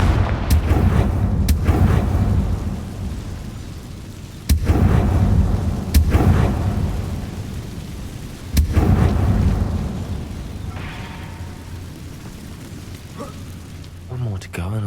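Confringo blasting spells going off in the Hogwarts Legacy video game, several sharp booming explosions spaced seconds apart, each with a rumbling tail, while a voice speaks.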